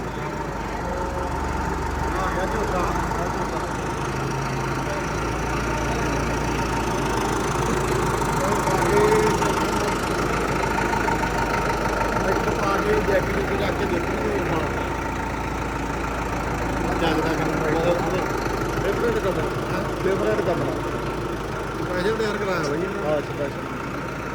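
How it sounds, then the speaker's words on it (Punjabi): A heavy tractor engine idles with a steady low rumble throughout, while people talk over it. "ਟਰੈਕਟਰ ਆ ਗਿਆ ਬਈ ਦਾ"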